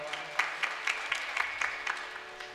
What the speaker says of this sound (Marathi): सगळ्यांनी टाळ्या वाजवा